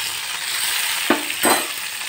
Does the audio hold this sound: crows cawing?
no